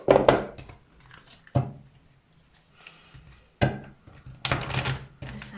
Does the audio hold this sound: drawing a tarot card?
yes